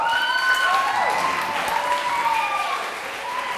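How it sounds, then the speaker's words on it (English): Audience applause at a National Honor Society leadership training session, steady clapping from a group of participants, fairly close and sustained, with faint vocal tones mixed through it. "Give these guys a round of applause."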